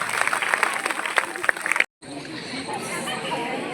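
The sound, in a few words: loud applause for teacher Kuldeep sir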